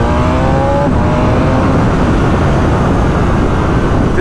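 A 2022 BMW S1000RR superbike accelerates hard, a loud sustained engine roar with rising pitch at the start, heard close and steady throughout without any talk.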